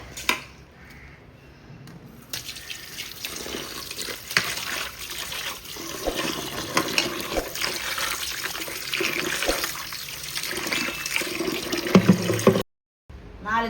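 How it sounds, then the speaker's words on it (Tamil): Tap water runs steadily while raw prawns are rinsed with turmeric, a continuous close splashing and trickling that swells and shifts as the prawns are stirred, cut off abruptly near the end. "மஞ்சத்தூள் போட்டு 2 தண்ணி 4 தண்ணி ஊற்றி க்ளீன் பண்ணணும்."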